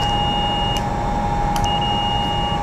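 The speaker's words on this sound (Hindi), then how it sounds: "मल्टीमीटर में आप बीप का साउंड सुन सकते हैं" A multimeter's continuity beep sounds while a limit switch contact is being tested, a loud, steady electronic tone held through the whole stretch with no break.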